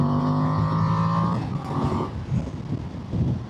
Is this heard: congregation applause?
no